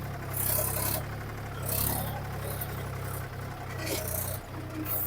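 A tractor loader's diesel engine revs hard as the bucket digs in and fills, making a close, throbbing low drone that swells and eases in a few pulses, with some rattling and scraping on top.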